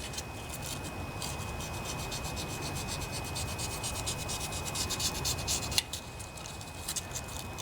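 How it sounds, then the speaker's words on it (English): Sandpaper rubbed by hand inside a cylinder of a vintage Briggs and Stratton riding lawnmower engine to remove a carbon ring, a steady close rasping scrub with quick repeated strokes. "So you'll want to lightly sand off this carbon ring in here."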